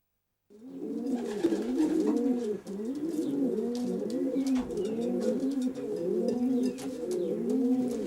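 Racing pigeons coo steadily in a loft after returning from a race, with overlapping rolling, bubbling calls repeating throughout at close range and no talk.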